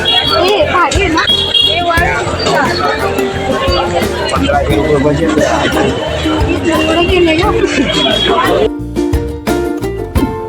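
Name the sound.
crowd chatter at a busy market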